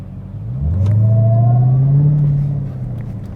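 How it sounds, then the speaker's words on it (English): A Dodge Challenger Hellcat with a modified exhaust and JLT intake accelerates, a loud deep engine rumble rising with a thin supercharger whine over it, then easing off, heard up close with no talking. "with a modified exhaust, it brings it up to slightly higher whine than it would be on a completely stock car with the stock blower whine"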